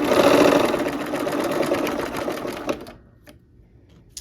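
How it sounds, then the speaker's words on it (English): A sewing machine runs a final quilt block seam with a rapid, close stitching whir for nearly three seconds, then stops, leaving near silence with a small click. "sew that last seam"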